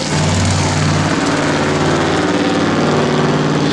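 A loud car engine drones steadily and close by as it passes, a constant throaty roar with no break or other sound.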